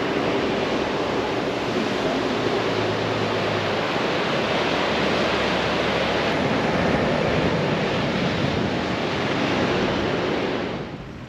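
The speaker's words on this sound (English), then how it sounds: "Iconic Esperance Beach." Ocean surf breaks steadily at Esperance Beach, a loud continuous wash of waves with wind rumble that holds alone throughout before easing at the very end.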